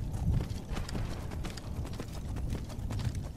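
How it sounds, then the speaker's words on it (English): Horse hooves galloping in the Skyrim video game, a steady rapid clip-clop rhythm of muffled thuds at moderate volume with no talk over it. "This is quite a fast horse, to be fair."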